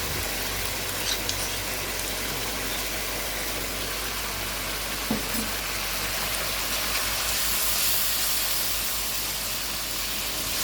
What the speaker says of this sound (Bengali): চিংড়ি মাছ দিয়ে এখানে ভালোভাবে নেড়ে চেড়ে এটাকে মিনিট 4-5 মিনিট কষাতে হবে ভালো করে।